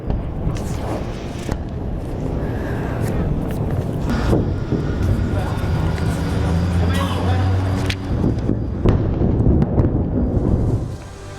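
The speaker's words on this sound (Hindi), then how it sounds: "एक बार सुनिए कैसे धमाके से गूंज रहा है बेरूत।" Blasts echo over Beirut during an airstrike, a continuous low rumble with several sharp booming bursts rising out of it and long rolling echoes, loud and sustained, with some voices mixed in.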